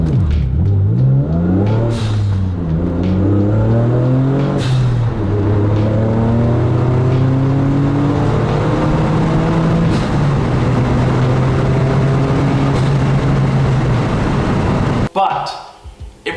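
Mitsubishi Galant VR-4 accelerating hard, its engine revving up through the gears with a rising, loud drone that sweeps upward repeatedly before cutting off near the end.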